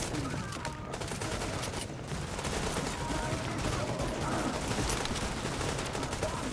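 Light machine gun fire rattles in dense, sustained bursts during a firefight in The Division, loud and continuous, with voices talking over the shooting.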